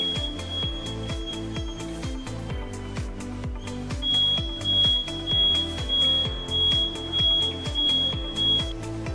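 Heavy-metal detector alarm sounding loudly, a high steady electronic beep tone held over a rapid pulsing low rhythm, repeating for several seconds with no talk.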